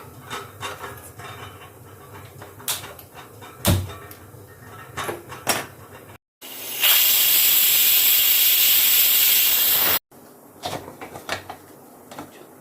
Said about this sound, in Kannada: ಮೂರು ವಿಸಲ್ ಬರೋವರೆಗೂ ಕೂಗಿಸ್ಕೊಳ್ಳಿ